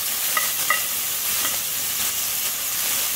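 Celery and other vegetables stir-fry in a pan for spring rolls, giving a steady bright sizzle with a few soft scraping stirs.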